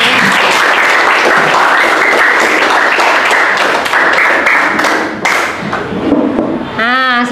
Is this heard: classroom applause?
yes